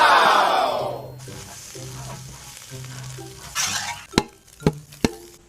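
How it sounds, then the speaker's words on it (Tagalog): Eggs scrambled and stirred in a frying pan for a big batch of chow pan, a loud initial sizzle fading into steady frying hiss with low rhythmic scraping, then several sharp clanks of a utensil against the pan. "Kailangan muna natin i-scramble daw yung itlog."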